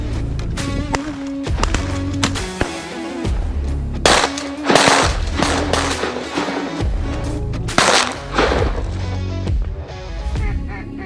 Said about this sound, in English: Shoot that drake, you guys.